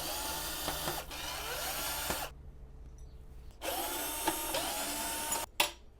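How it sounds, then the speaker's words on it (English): A power drill removing oven door screws whirs in two long bursts separated by a short pause, with a brief final spin at the end, close and loud. "then take a drill or screwdriver"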